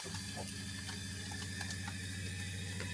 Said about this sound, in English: I think I'm putting hot water in the kettle.